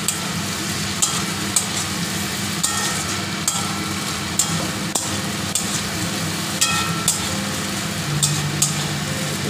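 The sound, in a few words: stirring and frying cauliflower and potatoes in a pan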